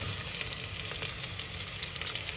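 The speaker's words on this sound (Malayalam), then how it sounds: "മീഡിയം സൈസ് സൈസിൽ മുറിച്ച സവാള ചേർത്ത് വഴറ്റുക" Medium-cut chopped onions sauté in a cooker with a dense, close sizzle and crackle, with frequent light stirring scrapes over a low background rumble and no talking.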